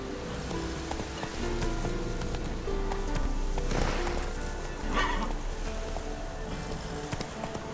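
Roach, the horse in The Witcher 3: Wild Hunt, gallops with steady rhythmic hoofbeats under a dense layer of game music and ambience, with a brief swelling whoosh in the middle.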